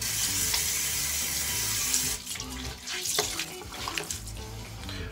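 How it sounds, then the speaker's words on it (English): Running tap water rinses an electric head shaver, a steady loud hiss of water that turns uneven and splashy as the shaver is moved under the stream. "So let me go ahead and give it a rinse."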